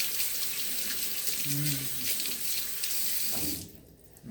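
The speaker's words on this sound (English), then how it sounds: "I rinse my hands off." Hands rinsed under a running kitchen tap while making wine soap, a steady close splashing water stream that cuts off near the end, with no talk over it.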